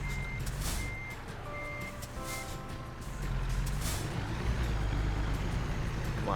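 A reversing truck in American Truck Simulator gives out a steady series of electronic backup beeps over a low engine drone and rumble, with no voices.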